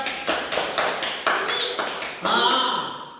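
Children clap their hands in a quick run of sharp, evenly spaced claps, fairly close, with a voice speaking near the end.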